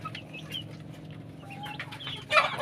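Pet chickens cluck close by while being fed in a rural yard, with soft, overlapping calls and a louder burst of clucking toward the end.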